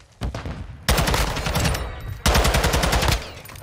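Automatic gunfire in the video game Call of Duty: Modern Warfare II rings out as three loud, rapid bursts, with the longer middle and final volleys following a brief opening rattle.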